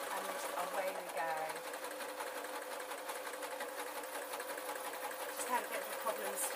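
A sewing machine stitches a foam pencil case, a continuous rapid mechanical whir with a fast chattering rhythm that runs steadily from start to finish, fairly close and clear.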